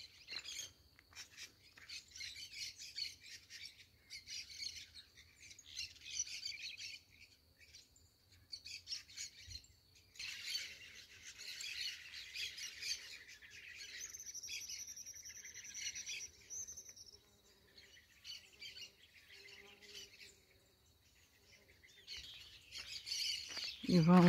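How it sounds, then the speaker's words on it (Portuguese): Birds sing and chirp in foggy countryside, with repeated squawks and tweets at a moderate distance over a quiet background of faint insects. A voice speaks briefly at times. "E os pássaros alegres"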